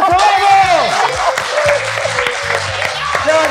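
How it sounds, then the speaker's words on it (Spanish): A live studio audience bursts into loud applause and cheering in a Miami broadcast setting, dense clapping throughout with an excited voice and music over it. "¡Un aplauso, vamos!"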